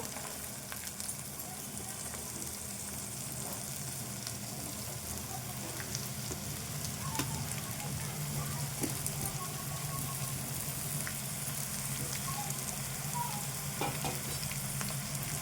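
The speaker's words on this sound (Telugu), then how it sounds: "ఇది కలుపుకుందాము బీరకాయ కొంచెం స్టవ్ సిమ్లో పెట్టుకొని కలుపుకోవాలి" Ridge gourd frying with onions in a pan over a low flame, a continuous soft sizzle with intermittent scraping stirs throughout, fairly quiet and steady with no talk.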